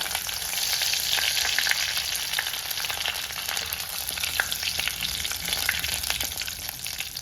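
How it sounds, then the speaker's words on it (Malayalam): Mustard seeds splutter in hot oil with dried red chillies and curry leaves for a Palakkad-style chilli tamarind curry, giving a dense, steady crackle of close popping at an even level throughout. "കടുക് നന്നായിട്ട് പൊട്ടാൻ തുടങ്ങിയിട്ടുണ്ട് ഈ സമയം നമുക്ക് അതിലേക്ക് വറ്റൽ മുളക് ചേർത്ത് കൊടുക്കാം"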